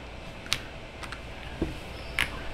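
Scattered clicks from typing on an AULA F87 gasket-mount mechanical keyboard with north-facing 5-pin switches, a few distinct keystrokes spread over quiet room noise, fairly faint, with no talk.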